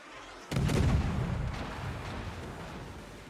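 The British cruiser HMS Hawkins firing its main guns in the naval game World of Warships, a single heavy boom that rolls into a long, fading rumble.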